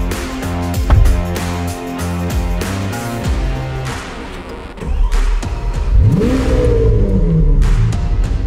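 Lamborghini Aventador SV with a full exhaust line and engine remap revving hard in loud, close bursts, with throttle blips climbing and falling before a long sweeping rise and sustained high rev toward the end.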